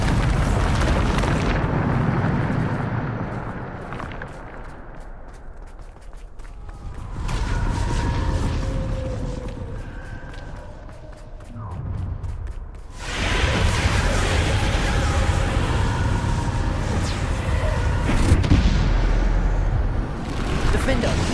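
Bombarda spell blasts in Hogwarts Legacy: loud booming explosions and rumbling eruptions in long waves, with a quieter, creaking stretch between them before another heavy burst.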